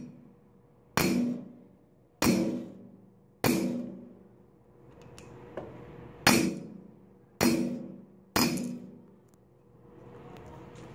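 Iron hammer striking a small piece of iron, six or seven sharp metallic blows spaced about a second apart, each ringing briefly before the next, loud and close with no talk.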